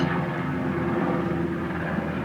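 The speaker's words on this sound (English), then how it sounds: "that's a Black Hawk flying over right now" A Black Hawk helicopter passing overhead, a broad steady roar of engine and rotor noise, loud and constant throughout without talk.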